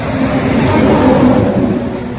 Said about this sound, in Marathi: आता आम्ही चाललोय रिक्षाने घरी